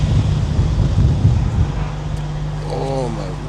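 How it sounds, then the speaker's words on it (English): Strong gusts buffet the microphone at a windy horizontal drill rig site despite a windscreen sock, making a loud, steady low roar with brief swells and a faint voice-like tone near the end. "it is windy."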